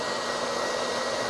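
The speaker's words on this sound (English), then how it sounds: "We're going to apply some heat to this baby." A heat gun blowing steadily on a helmet action-camera mount to warm its 3M VHB adhesive, a constant close airy roar with no talk.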